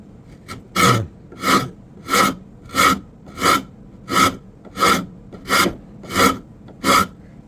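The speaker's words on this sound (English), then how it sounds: "let's move along to the French rasp, the Liogier." A Liogier French rasp filing wood in ten even, rhythmic strokes, each a loud, close scraping rasp separated by short pauses.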